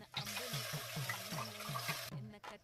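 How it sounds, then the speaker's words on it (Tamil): Tamarind water pours into a pan for rasam in a home kitchen, a quiet, steady liquid splash that runs for about two seconds and then stops abruptly. "நம்ம கரைச்சி வச்சிருக்க புளி தண்ணியை எடுத்து ஊற்றிடலாம்"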